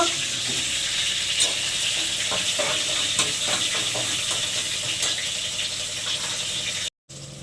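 Spices sizzle steadily in hot oil for a mutton and potato gravy with ground dried chilli, a dense continuous frying hiss with faint stirring ticks, cutting out briefly near the end.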